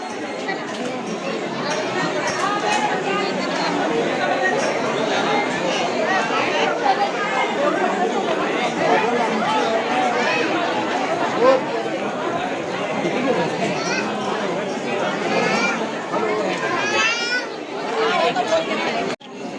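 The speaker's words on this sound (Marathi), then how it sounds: "खूप सारी गर्दी खूप खूप त्याला लिमिटच नाही" A large crowd waiting in a queue at Bhimashankar temple, dense overlapping chatter and voices, children among them, filling the space continuously at a steady, fairly loud level.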